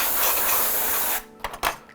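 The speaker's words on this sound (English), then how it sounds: "I'm gonna take the spray, I'm gonna get any dust particles out." A spray can blows dust out of a JVC VCR, with a loud, steady, close hiss that stops abruptly, followed by two short puffs.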